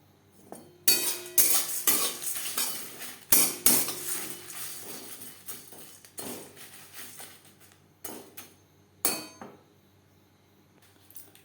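Whole coriander and cumin seeds stirred in a pan over low flame for a Bengali chicken curry, giving bursts of scraping and clinking metal spoon strokes that come in clusters, then thin out toward the end, with no talk.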